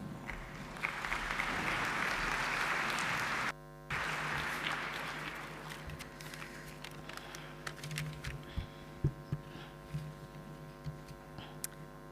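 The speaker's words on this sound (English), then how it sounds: "Please give a big round of applause." Audience applause at a Golden Key new members ceremony, a dense broad wash of clapping for about four seconds that breaks off briefly, resumes, then thins into scattered claps and faint room noise.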